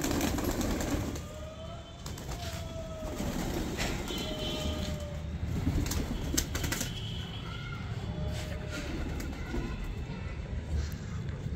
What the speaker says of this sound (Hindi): जोड़े के कबूतर जोड़ों में पले हुए हैं सारे कबूतर